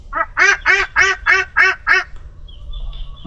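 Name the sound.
Muscovy duck quacking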